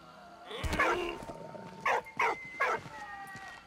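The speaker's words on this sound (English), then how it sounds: "What are you barking at?" A dog in the World War I video game Valiant Hearts gives a few sharp, separate barks, fairly close, with bits of game sound between them.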